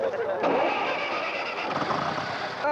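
A tractor engine cranks and catches at a French agricultural show, then runs at a rough mid-pitched idle. It is close and loud, with voices and crowd chatter around it.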